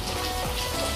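Rain falls on a street in Barcelona, Spain, a steady broadband hiss of drops spattering on hard surfaces, close and continuous with no talking.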